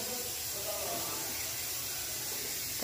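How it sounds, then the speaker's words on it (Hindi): Steady hiss of hot oil sizzling in a pan as vegetables fry for a home-cooked sabji, a continuous even wash of noise with no clear breaks. "और देखो अब इसको मैं करूँगी फ्राई, थोड़ा ये हो जाए गरम"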